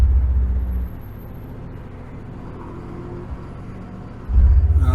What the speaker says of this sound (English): Rev the crap out of it.